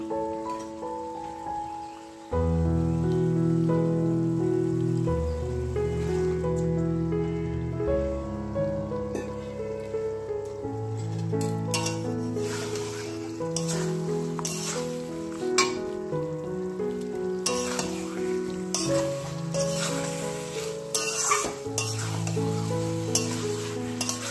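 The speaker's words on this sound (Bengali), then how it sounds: "এবার আমি চিকেনটা ঢেলে দেব" Chicken poured into fried-down spice paste with coriander powder for a chicken curry, sizzling and stirred while background music plays over it throughout.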